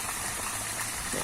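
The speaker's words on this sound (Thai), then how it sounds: "ต้องขอโทษขออภัยด้วยครับ ที่มีเสียงน้ำไหลนะครับ" Water gushes from an open garden hose beside a pond, a steady, noisy rush that fills the whole moment with no other sound on top.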